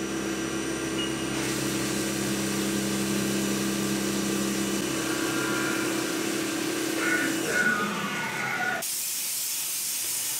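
A CNC mill slots robot-part stock with a 6mm end mill at 3mm step-downs, giving a steady, loud hissing cut with a faint whine that shifts near the end as the pass finishes.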